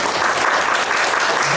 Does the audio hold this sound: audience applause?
yes